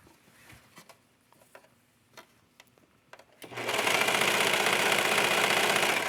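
A sewing machine starts stitching slippery mesh fabric for a yoga top: a few scattered taps and clicks, then a sudden steady loud mechanical whir that runs on evenly to the end.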